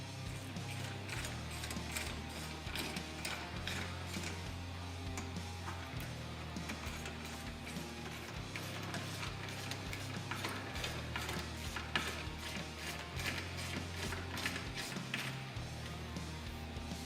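Ratchet wrench clicking steadily while tightening the bolts on a Polaris RZR Pro XP spare tire carrier, a dense run of close, rapid mechanical ticks with no talk.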